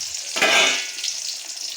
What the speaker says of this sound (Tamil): கடுகு பொரிஞ்சது வெங்காயம் பூண்டு சேர்த்துக்கலாம்.